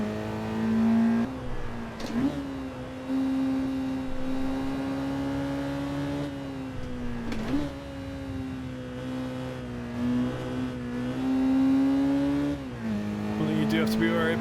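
Car on a track lap powering hard out of a left-hand corner, engine droning steadily with a couple of gear changes and brief pitch dips, while someone talks over it.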